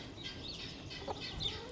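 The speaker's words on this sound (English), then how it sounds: "These are true Americanas" Lavender Ameraucana chickens, hens with a rooster in a breeder pen, cluck softly and intermittently against a steady outdoor background hiss.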